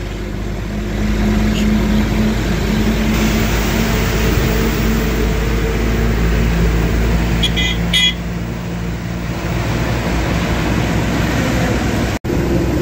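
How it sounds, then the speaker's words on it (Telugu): A Benz truck grinding up a ghat road in third gear, its engine a loud, steady low drone that holds throughout, with brief horn-like tones sounding partway through. "మన బండి 3వ గేర్లో ఎక్కుతుంది చూడండి."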